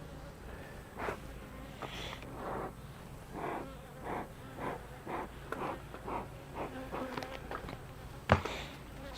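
Honey bees buzz softly around an open hive during an inspection, faint intermittent hums and brief buzzes over a quiet background, with occasional handling noises.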